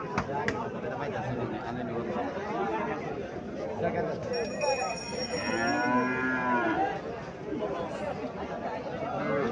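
A cross-breed cow lets out one long, drawn-out moo at a busy wholesale cattle market, heard clearly over a constant hubbub of nearby buyers and sellers talking.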